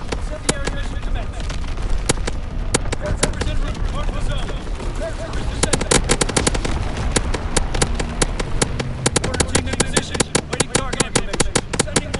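Rapid bursts of gunfire and artillery in a Call of Duty WW2 battle, a dense run of sharp cracks that thickens into steady volleys in the second half, with game voices radioing over the fighting.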